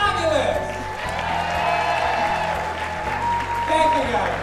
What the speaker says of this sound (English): So please give yourself a round of applause for being fabulous!